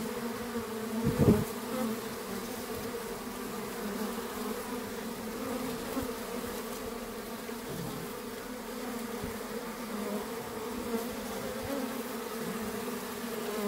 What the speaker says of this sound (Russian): Вот так собирает пыльцу пчелы.